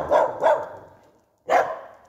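A Pyrenean Mountain Dog barks indoors, two quick loud barks close together, a pause, then a third bark, all near and clear with no talking.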